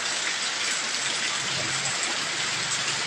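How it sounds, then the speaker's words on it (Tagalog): Steady heavy rain pours down in a dense, continuous hiss with no pauses, close and fairly loud throughout. "lumakas yung ulan, sigurado bahana yan."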